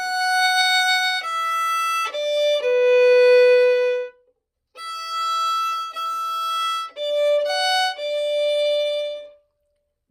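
Solo violin playing the Cielito Lindo melody in clear sustained bowed notes with short pauses between phrases, close and bright, with no talking.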